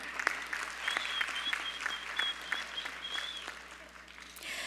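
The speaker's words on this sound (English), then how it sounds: "Let's give a thunderous round of applause to our orchestra" Audience applause for an orchestra at a classical dance performance, a fairly quiet, sustained patter of many hands clapping heard from a distance, with a faint tone running through it.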